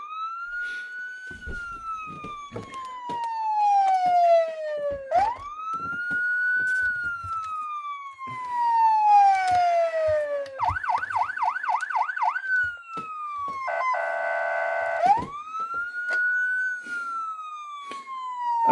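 Electronic siren from a Motor Max 1/18 scale Police Interceptor toy car cycles through a loud, close wail with rising and falling sweeps, switching to fast yelp and warble patterns before the wail returns.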